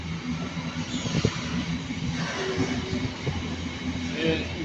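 A train rumbles and slows at Milton Keynes Central station, a low, continuous rolling drone with faint squeaks heard from the platform.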